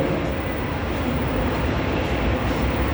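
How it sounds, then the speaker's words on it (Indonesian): An LRT Jabodebek train rolls into a station platform bound for Harjamukti, giving a loud, steady rumble and rushing roar that stays even throughout, close at hand. "kereta tujuan Harjamukti akan memasuki jalur 1"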